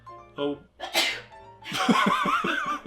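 A single loud sneeze with a sharp intake of breath, followed by a brief exclamation and some laughing.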